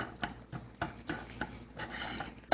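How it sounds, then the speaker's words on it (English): Spoon stirring egg into cooked rice in a bowl, a soft rhythmic series of scrapes and taps repeating roughly every quarter second, close and moderately quiet. "I'm gonna just mix that all together."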